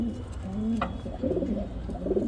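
Shahjahanpuri giribaz pigeons coo in a low, throaty rolling murmur that runs steadily from start to finish, close by and fairly loud, with a brief sharper flutter partway through.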